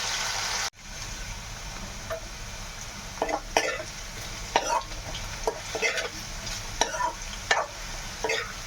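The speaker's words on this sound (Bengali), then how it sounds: "আলুগুলো বেশ লাল লাল করে ভাজতে হবে, বুঝেছো?" Potatoes frying in hot oil, a continuous close sizzle broken by repeated spatula scrapes and stirring knocks at an irregular rhythm, with no voices.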